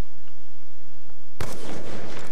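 A single sudden, close sniper rifle shot from Black Ops 2 cracks out of near silence, with its loud blast trailing into a short, noisy tail.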